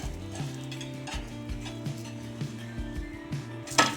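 A sorghum jowar roti being flipped and cooked on a hot pan, a steady soft sizzle with scraping and stirring-like clatter of a utensil, plus a brief sharper clink near the end.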